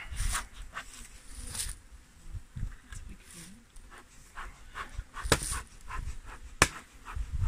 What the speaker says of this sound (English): So give our board a good little tap,